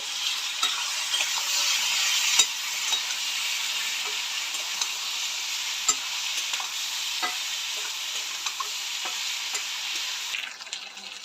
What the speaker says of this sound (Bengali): এইবার মশলাটাকে ভালো করে কষিয়ে নেব